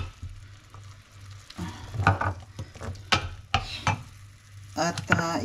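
Soy sauce hissing and sizzling as it hits a hot frying pan with salmon and black beans, in bursts of loud crackling spatter with stirring clatter between them.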